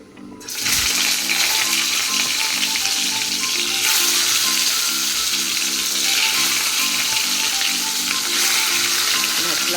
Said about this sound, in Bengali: দুটো কড়াইতে একসঙ্গে মাছ ভাজা বসিয়ে দিয়েছি।